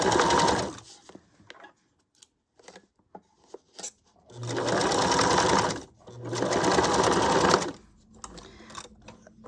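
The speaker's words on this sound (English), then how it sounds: "I'm gonna do the stitching on this side so I can see well" A sewing machine runs in two sustained bursts of rapid stitching along a fabric journal cover made from a vintage pillowcase, separated by quieter handling clicks and fabric rustle, close and clear.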